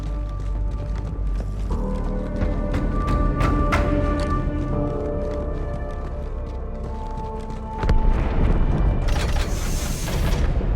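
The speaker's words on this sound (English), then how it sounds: "That explosion came from inside the Athens, same as the Malta." In the video game Halo 2: Anniversary, an explosion goes off aboard a ship, a heavy booming burst swelling near the end over a steady layer of mechanical hum and tonal ambience.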